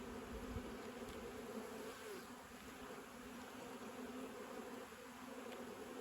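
Dense, steady buzzing of many honeybees inside a hive, a continuous low drone filling the whole stretch with no voices.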